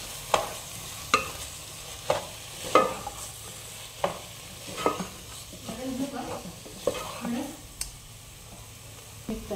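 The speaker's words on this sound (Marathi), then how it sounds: "थोडीशी फोडणीमध्ये कोथिंबीरही टाकत आहे आणि हे आपण आता चांगलं मिक्स करून घेणार आहोत" Coriander and curd are stirred into a tempering for chicken khichdi, with a spoon scraping the pan in regular strokes over a soft, close sizzle.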